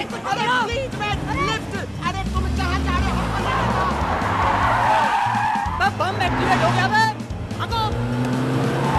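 A car speeds away with skidding, squealing tires, loud and close over shouting voices and frantic background commotion, the engine roar fading as it tears off.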